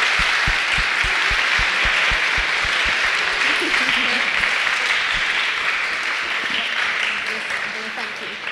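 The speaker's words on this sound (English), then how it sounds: "can we just have one final round of applause for our incredible panelists?" Audience applause for panelists at the close of a panel discussion on fascism and resistance, a sustained round of clapping that opens with a few sharp distinct claps and then tapers slightly toward the end.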